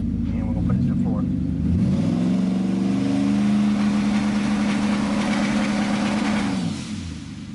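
A twin-turbo Ford F-150 with a 10R80 transmission revs on the trans brake, the engine swelling from idle to a sustained high, loud drone that holds for several seconds before dropping back, close up inside the truck.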